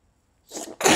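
A stifled allergy sneeze, close and alone: a short held-back burst followed by a brief pause, then a louder, breathy release.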